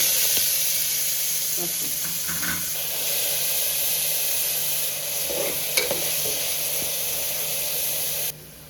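Onions sizzle steadily in hot oil seasoned with cumin seeds and asafoetida, a continuous close frying hiss with occasional stirring scrapes and faint background voices.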